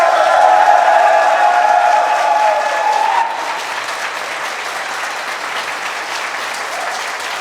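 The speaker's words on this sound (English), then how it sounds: "Let's give a round of applause for everybody who made this happen" A crowd at a political party gathering claps steadily with some cheering and whistles early on, the applause dense and continuous, easing slightly partway through but carrying on to the end.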